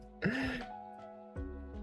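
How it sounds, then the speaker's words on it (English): A man gives a single harsh, throaty cough-like hack, loud and close, then falls quiet before a second rougher burst near the end, while working sick at a welding job. "Cough, cough."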